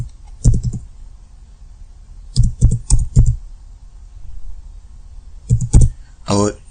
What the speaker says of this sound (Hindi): यहाँ पर हमारे सामने एक विंडो ओपन होगी और इसमें हम यहाँ पर अपना इकामा नंबर टाइप करेंगे।